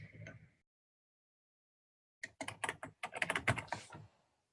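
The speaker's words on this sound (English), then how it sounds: "we type project online" A short tap of keys, a pause, then a quick burst of typing on a computer keyboard, crisp and close in an otherwise quiet room.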